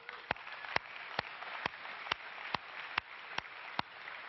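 Audience applause at the EA GamesCom 2010 press conference: a dense, steady wash of many hands clapping in a large hall, with a few sharper individual claps standing out at regular intervals, moderately distant.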